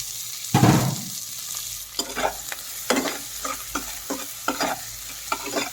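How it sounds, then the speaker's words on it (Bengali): Chopped onion and four green chillies frying in oil for an egg and potato curry, with a loud sizzling hiss and a burst as they land, then repeated scraping stir strokes in the pan, no voices. "এখন পেঁয়াজটা হালকা বাদামি করে তেলের মধ্যে ভেজে নেব।"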